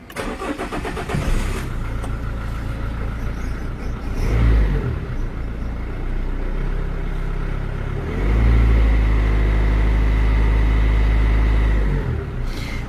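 A Renault Clio 2 with a 1.5 dCi diesel engine cranks briefly, catches and settles into a steady clattering idle, then briefly rises in a heavier surge before easing back, close and alone.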